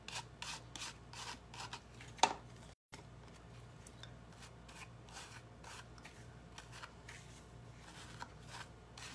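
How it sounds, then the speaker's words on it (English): A brush scrubbing excess gilding flakes off an embossed paper card, steady soft rasping strokes repeated in quick rhythm, close and quiet, with one brief pause. "brush in some wherever I don't have leafing, and then brush off the extras"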